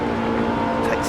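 Ferrari F430 Scuderia engine in Gran Turismo 7 pulling hard uphill, a steady, loud sustained drone that holds pitch throughout, with a voice talking over it.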